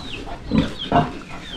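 Pigs on a farm in Calatagan give two close, loud grunts about half a second apart, with low background noise and no talk.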